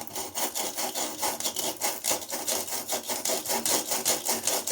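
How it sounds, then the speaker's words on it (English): A hand deburring tool scrapes the rim of a freshly cut pipe during a bathroom shutoff valve replacement, giving a quick, rhythmic rasping of repeated short strokes, close and fairly soft. "I do have one of these burling tools to kind of clean it up a little bit"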